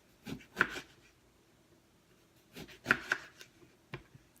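A knife slices through a lemon on a cutting board in a series of soft, close cuts, about two clusters of chops with small taps between and quiet pauses.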